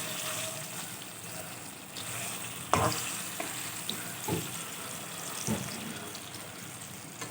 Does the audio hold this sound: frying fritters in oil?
yes